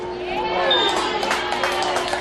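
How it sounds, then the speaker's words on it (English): Softball crowd in the stands reacting to an umpire's call, a loud, sustained murmur of voices and shouts with a tonal hum underneath, brief and close. "Crowd didn't like that call"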